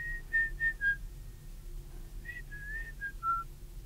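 A person whistles a short melodic tune of the kind played on jukeboxes, a few clear wavering phrases with a brief pause between them, alone over a quiet room.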